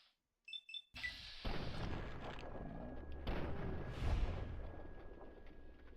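Enemy gunfire in Fallout: Tale of Two Wastelands, a couple of short beeps, then a heavy blast that opens into a sustained rumbling roar of fire and impacts, with a thin steady tone running underneath.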